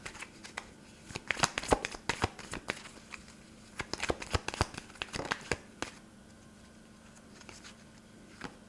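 Cards shuffled and drawn from a deck during a card reading, a run of quick crisp riffling flicks and slides in bursts, close and fairly quiet, then settling to near silence.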